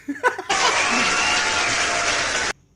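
Starting after a few brief laughs, a live studio audience bursts into loud, dense applause that holds steady for about two seconds and then cuts off sharply.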